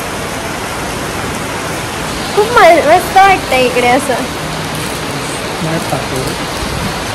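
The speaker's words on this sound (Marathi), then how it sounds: "पण पाऊस अचानक कसा येऊ शकतो रे" Steady heavy rain hisses loudly throughout, and a person speaks briefly partway through over the downpour.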